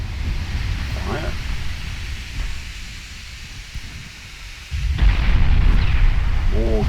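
Naval guns fire a salvo in Ultimate Admiral Dreadnoughts, a fast Bismarck-class battleship engaging: a low booming blast rolls out, fades to a rumble, then a second heavy burst follows near the end, with brief voice fragments around it.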